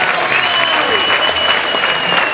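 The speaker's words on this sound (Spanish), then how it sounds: "Henry Cole, fuerte el aplauso para él." Loud audience applause for a drummer at a jazz festival in Cabarete, dense continuous clapping with some cheering and voices mixed in the crowd.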